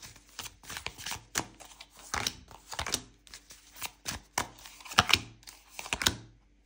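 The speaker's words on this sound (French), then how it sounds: "on va tirer 5 cartes." Tarot cards being shuffled, drawn and laid down during a reading, giving a string of sharp, close papery snaps, slaps and rustles in an uneven rhythm, with no talking.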